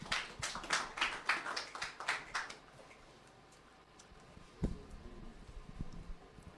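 An audience applauding a speaker at a radio sound clash event: a short burst of scattered claps for about two seconds, then fading to quiet crowd murmur with occasional taps.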